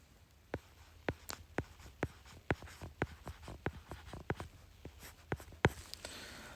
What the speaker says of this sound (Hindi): अच्छा, मैं यहाँ लिख देता हूँ।